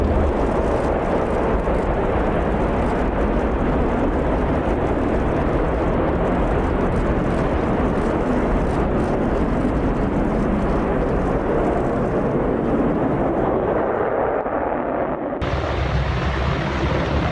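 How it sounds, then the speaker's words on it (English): An F-16 fighter jet roars through a full-force takeoff, a loud, sustained broadband jet blast that holds steady for most of the span before the tone shifts and thins near the end, with no talk over it. "What a full force F-16 takeoff looks like."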